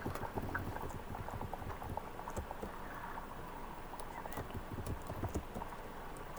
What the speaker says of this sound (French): Mon cheval saute des escaliers.